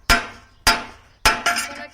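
Hammer blows shaping and closing the neck of a handmade piece, likely metal, in a Purépecha craft workshop: four sharp, ringing strikes, the first three evenly spaced, then a quicker pair, close and loud with no talk.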